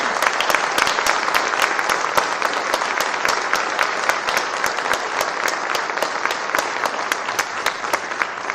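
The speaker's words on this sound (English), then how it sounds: "one final round of applause for these students and their teachers" A concert band audience applauds steadily, dense continuous clapping filling the room at an even level with no talk over it.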